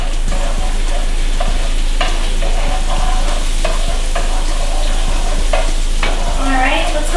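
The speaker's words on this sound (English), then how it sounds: "Gonna add the garlic and chili pepper. And we're just gonna cook that up." Garlic and chili pepper sizzle steadily in melted butter in a pan, with a spoon stirring and scraping in repeated clinks throughout, close and fairly loud with no talking.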